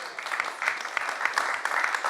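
An audience at a morning presentation applauds with brisk, continuous clapping, close and moderately loud, holding steady through the short burst.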